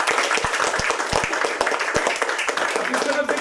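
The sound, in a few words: audience applause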